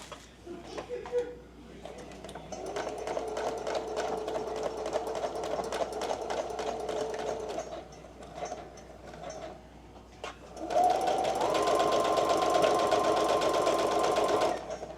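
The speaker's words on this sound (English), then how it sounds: "Anyways, rant over, back to sewing." A sewing machine stitching denim corset seams, close and steady mechanical whirring in long runs, stopping briefly near the middle before a louder, faster run resumes.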